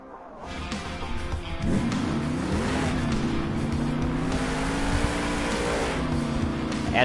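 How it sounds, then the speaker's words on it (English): Grave Digger monster truck engine revving and roaring inside a stadium at a Monster Jam event, a loud sustained throaty drone whose pitch climbs and wavers, with crowd and arena noise beneath. "And up next, we got his brother, Adam Anderson, and Gravedigger"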